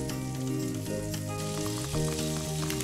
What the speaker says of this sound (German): In einer großen Pfanne zerlasse ich etwas Butter, brate den Speck da drin an.